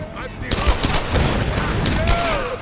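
Rapid gunfire from a Tomb Raider video game firefight, with dense bursts of shots crackling over game ambience and someone talking over the action.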